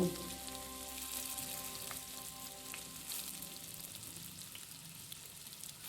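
Onions frying in a pan while chili chicken is being made, a steady dense sizzle and crackle running for the whole stretch with a few small pops, fairly close and unaccompanied by talk.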